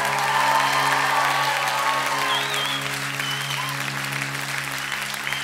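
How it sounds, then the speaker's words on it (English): A church congregation applauding and cheering for its pastors, dense sustained applause with scattered whoops, strong at first and easing slightly toward the end, with no talk over it. "right now we're cheering for your pastors"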